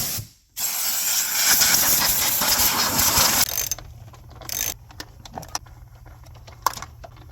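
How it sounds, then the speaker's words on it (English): A loud burst of compressed air from an air blower hisses over the top of a Mustang GT 4.6 V8 engine for about three seconds, then stops, followed by a few shorter sharp puffs and clicks. "We're going to take the air blower and blow the top of the engine off"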